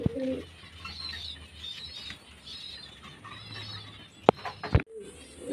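Pigeons that have just fed coo softly in a loft, with a few sharp flaps of wings and clatters standing out near the end.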